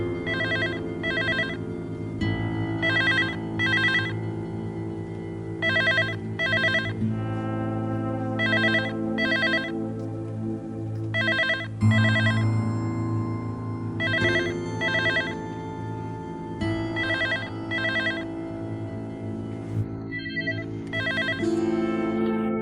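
A telephone bell rings on and off for a long stretch, regular bursts of ringing repeating over a steady background of low music, with no voices.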